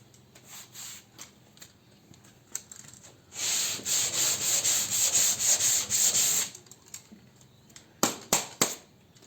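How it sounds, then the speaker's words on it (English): Body filler on a Jaguar being hand sanded: after a quiet start, a burst of rapid rhythmic abrasive scrubbing strokes runs for a few seconds, followed by a few sharp knocks near the end. "I'll give her a sand and see what happens"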